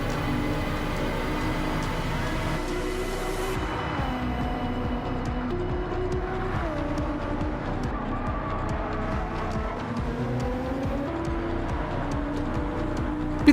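A race car engine drones steadily through a pit-stop lap in Gran Turismo 7, with a continuous mid-level engine tone that shifts pitch as the car slows, and light tyre noise, without talking.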